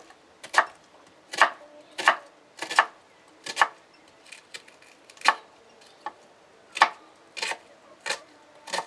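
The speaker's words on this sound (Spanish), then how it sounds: "Voy a seguir cortando esta cebolla" A knife chops through an onion on a cutting board in a country kitchen, about a dozen crisp, separate knocks at an uneven, unhurried pace, close and clear with no talking over them.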